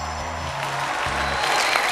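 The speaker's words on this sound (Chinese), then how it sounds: "给我鼓鼓掌。" Studio audience applause on a Chinese comedy talk show, a steady dense clatter of clapping filling the moment with a low hum of voices underneath.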